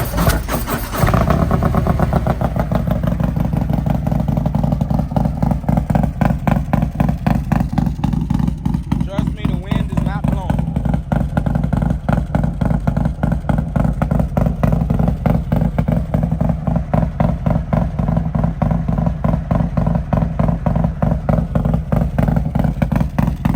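A 170 HP Harley-Davidson Road King V-twin with its build engine runs loud and close, a dense continuous pulsing rumble after a sharp start, holding steady with rapid firing throbs throughout.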